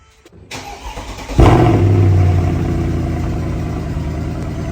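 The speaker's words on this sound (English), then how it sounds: "I love hearing it start with the roar when it comes to life." A Mercedes-Benz W204 C63 that has sat unused for a couple of weeks cranks briefly, then fires with a sudden loud roar and settles into a deep, steady idle, heard close up.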